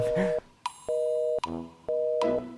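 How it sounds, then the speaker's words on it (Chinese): Steady electronic ringback tones repeat in even beeps with short gaps between them, and faint speech is heard at the start. "小姐姐不接电话"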